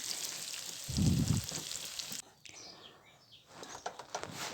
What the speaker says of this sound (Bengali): সরিষার তেলে রান্না করছি